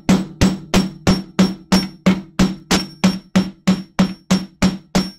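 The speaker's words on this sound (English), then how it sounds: "I'm going to lay it down on my bench block here, upside down, so that I'm hammering the inside that lays against the wire." Sharp, loud metal-on-metal hammer blows flare a small wire spiral laid on a steel bench block while making a moon pendant, about fifteen evenly spaced strikes in a steady rhythm with no talking.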